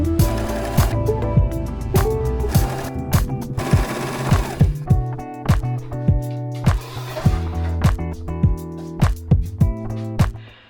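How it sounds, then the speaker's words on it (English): A sewing machine sews a seam on a pair of pants in rapid mechanical bursts, its needle clattering rhythmically up close with brief pauses between runs. "we're going to take this again to your sewing machine. We're going to sew, finish off that seam"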